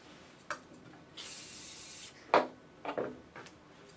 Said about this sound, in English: Let's spray all these down.